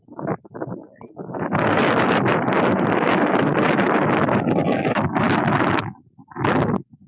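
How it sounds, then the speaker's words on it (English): Strong wind gusts roar loudly across the microphone in a sustained rush outdoors on Esplanade, New Orleans, briefly dropping off near the end before a final burst. "Ooh, that wind just comes up out of nowhere."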